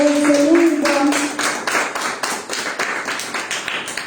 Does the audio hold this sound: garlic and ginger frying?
no